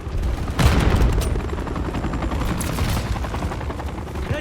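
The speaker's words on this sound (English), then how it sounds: "Heads up! The enemy helo is overhead." An enemy helicopter roars overhead in the Call of Duty Modern Warfare 3 campaign, its dense rotor rumble mixed with gunfire and booms, loud and continuous throughout.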